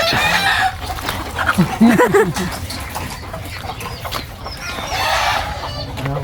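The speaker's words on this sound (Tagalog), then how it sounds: "manok" Chickens cluck and squawk nearby, short rising calls bunched together amid a busy, noisy outdoor background in the Philippines.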